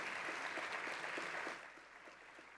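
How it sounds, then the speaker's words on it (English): Audience applause at a university seniors recognition ceremony, a steady wash of clapping from a large room that holds strong for about a second and a half, then thins and fades. "let's give them a big round of thank you applause"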